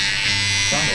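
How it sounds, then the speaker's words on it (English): An Andis Profoil electric foil shaver runs at close range during a fade and dense beard shape-up in a barbershop, giving a steady, loud buzz whose pitch shifts briefly near the end of the short burst. "also using the Andis Profoil every once in a while, going back and forth"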